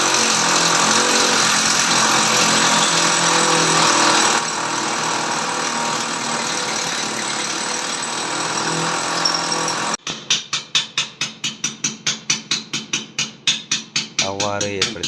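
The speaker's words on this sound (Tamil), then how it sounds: "மிஷினை கொண்டு நாங்கள் துவாரத்தை ஏற்படுத்திக்" A power drilling machine bores a hole for a wash basin fitting, first a long steady loud whine, then a rapid series of sharp rhythmic hammering bursts as the bit bites into the material.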